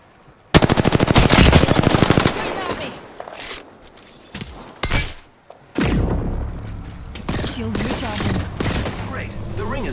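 Rapid machine-gun bursts and gunfire from a sci-fi shooter game with shields and orbital movement, loud and dense at first, then scattered heavy shots and thuds, followed by sustained combat noise.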